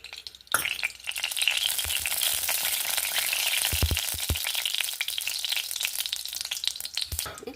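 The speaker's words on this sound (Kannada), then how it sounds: "ತುಪ್ಪ ಹಾಕೊಂಬ" Ghee sizzles hard in a pan for a sweet potato sweet, a steady, loud, close frying hiss with a few clinks of a utensil and no talk.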